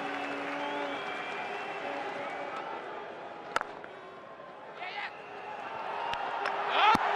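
Cricket crowd applauding on a cold day in England at an England versus West Indies one-day final, a steady wash of clapping and crowd noise running throughout beneath a commentator's voice.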